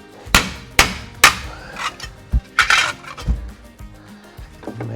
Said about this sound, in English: Give me that rubber hammer